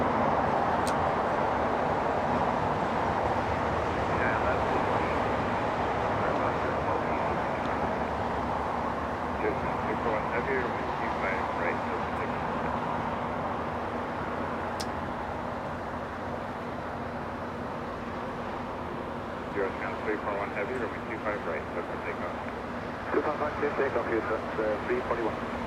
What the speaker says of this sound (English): A330 DHL lining up on the runway.